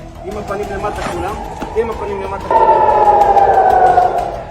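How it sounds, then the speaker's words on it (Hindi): Air raid sirens wail over Jerusalem, rising and holding a steady tone, loud and sustained, over background voices and crowd noise. "पूरा जेरूसलम हवाई हमले के सायरनों से गूंज रहा है।"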